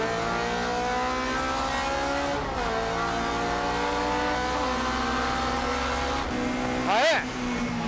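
Tuned Honda S2000 race cars launch at a race start in poor conditions, engines revving up together in rising, overlapping howls while a commentator speaks over them.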